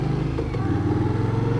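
Indian Scout motorcycle engine idling on its stock exhaust, a steady, close, low purring rumble with even pulses throughout and no talk.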